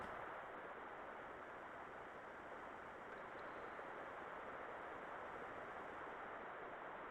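Steady waterfall ambience in the Waterfall Grotto area of the Xenogears RPG, a constant broadband rushing roar with no breaks and no voices.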